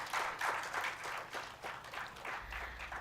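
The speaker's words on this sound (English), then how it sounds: "Give him a big round of applause." Audience at a guest lecture applauding, a faint, distant patter of many hands clapping in uneven swells, continuing across the whole stretch with no voices over it.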